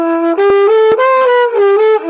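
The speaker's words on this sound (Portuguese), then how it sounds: "Olha a diferença do som do flugel." A flugelhorn holds a sustained note, close and loud, with a full harmonic series and a few soft re-attacks and small pitch shifts; no voices.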